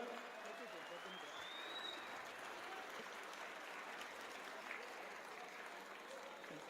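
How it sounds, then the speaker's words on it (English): Loud, sustained applause from a large crowd at a sports awards ceremony in Muscat, Oman, a dense steady clatter of clapping that holds at an even level from start to finish. "A very big round of applause"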